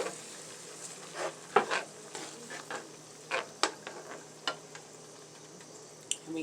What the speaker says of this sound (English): we stir that cornstarch around again with our finger